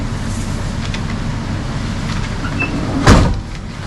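A door on an LS-swapped 1955 Chevy truck shuts with a single solid thud near the end, heard up close over a low steady background hum.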